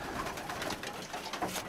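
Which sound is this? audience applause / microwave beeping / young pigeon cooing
young pigeon cooing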